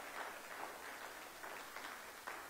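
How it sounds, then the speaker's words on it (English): Church congregation applauding standing military veterans during a Sunday service, with steady, fairly faint clapping spread across the room and a few louder claps pulsing through it. "We would love to applaud you today."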